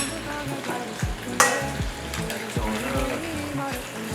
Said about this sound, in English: they double fry the chicken